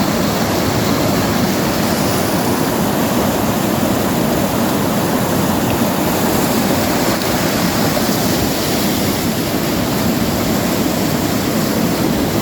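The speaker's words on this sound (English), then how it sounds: "Just got to cross this stream without getting wet feet." A fast-flowing stream rushes loudly and steadily at close range, a broad unbroken roar of water with no voices over it.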